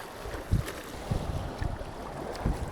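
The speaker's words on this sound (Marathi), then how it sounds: "हवा खूप फास्ट आहे आणि ही अशी वाहते" Strong wind blowing over the sea during a fishing trip off Mumbai, a steady rushing buffet on the microphone with a few low gusty thumps, faint and with no voices.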